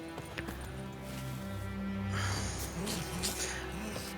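A horse's hooves clip-clopping in The Witcher 3, a moderate rhythmic trot with snorts and game ambience.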